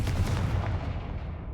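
Confringo blasting spells cast in Hogwarts Legacy, heard as a loud, dense burst of booming explosive impacts with a heavy low rumble that gradually tails off across the moment.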